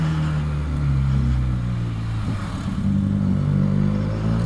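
Loud Benelli IXIL60 limited-edition motorcycle engine idling and revving up close, a deep throbbing drone that dips briefly and swells again, no voices.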